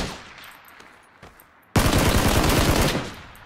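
A burst of rapid automatic gunfire in PUBG erupts suddenly after faint earlier shots, loud and dense rattling for over a second before tapering off, with no talking.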